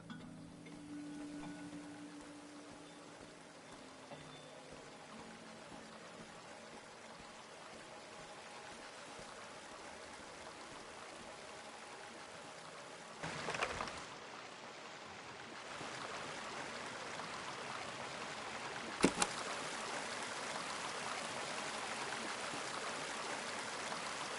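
Flowing stream water in the video game Season: A Letter to the Future, a steady soft trickle and rush, faint and continuous, with a couple of brief louder splashes or knocks partway through.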